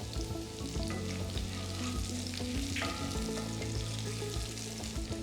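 Garlic and curry leaves fry in hot oil for a Kerala-style beef fry, with a continuous close sizzle and crackle and scattered utensil scrapes from stirring.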